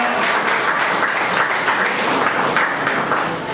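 An audience at a Guhraj Nishad Jayanti gathering claps continuously, a steady, fairly loud patter of many hands throughout.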